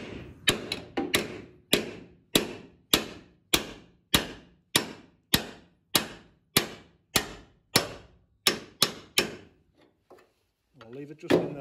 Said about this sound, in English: you hit this down and it will extract the pin from the door hinge